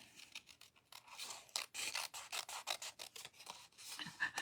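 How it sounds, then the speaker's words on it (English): Close, quiet snipping and rasping as scissors slice through paper in quick, uneven strokes, with no voices. "Do you see the way I'm cutting with the scissors?"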